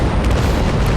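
Ship cannons firing in the Naval Action naval warfare game, a loud, heavy boom with a rumbling, sustained burst of low noise filling the whole moment.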